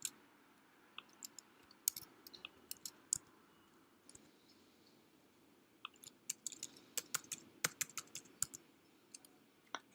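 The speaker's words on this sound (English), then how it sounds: "This is where you'll type in your registration code." Faint clicks from a computer keyboard as a registration code is entered, coming in scattered bursts of light keystrokes with short pauses between them, quiet against a low room hum, with no voices.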